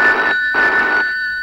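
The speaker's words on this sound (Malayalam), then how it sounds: "Ganapathi, they തിലോത്തമ്മയുടെ phone" A telephone rings in a scene from a 1997 Malayalam comedy film, with two close, loud bursts of electronic ringing separated by a short pause. The second burst trails off into quiet.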